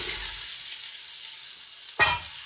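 Onions and carrots start sautéing in a casserole of warm fat, a soft quiet sizzle with a brief louder scraping stir near the end.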